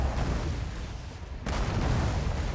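Cannons fire at waves of mobs in the online game ArcheAge, a dense, continuous barrage of booming blasts. A sharper burst lands about halfway through.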